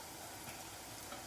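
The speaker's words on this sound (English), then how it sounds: "I like to add a couple of teaspoons of curry powder in the oil" Curry powder sizzles in hot oil for a Jaffna goat curry, a faint but continuous frying crackle with light stirring and no voices.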